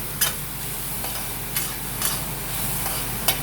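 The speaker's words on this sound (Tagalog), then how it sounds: "Ginigisa muna yung mga sangkap, no?" Onion and garlic sauté in a pan in a home kitchen, a steady broad sizzle with a few sharp spoon taps against the pan spaced irregularly, no voices.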